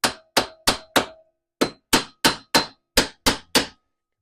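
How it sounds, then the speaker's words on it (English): A hammer strikes a freed CV joint on a 1992 Suzuki QuadRunner eleven times, sharp ringing, tinny blows close up in two quick bursts with a short pause between, and no speech. "Has like a tinny sound when you pound on it after it breaks free."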